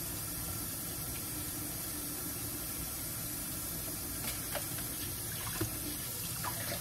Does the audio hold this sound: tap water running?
yes